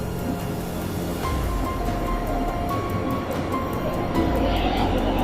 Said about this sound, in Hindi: अब ट्रेन यहां से गुजर रही है और किस प्रकार से अंग्रेजों के ब्रिज से ट्रेन गुजरती है